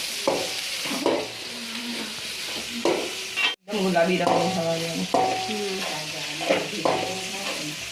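Onions frying in a pan for pulao, a steady sizzle with repeated scraping stirs of a utensil against the pan and occasional clinks, close and continuous.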